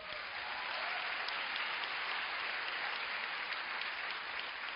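An audience in a conference room gives a round of applause for international leaders, with steady, even clapping that holds at moderate volume for nearly five seconds.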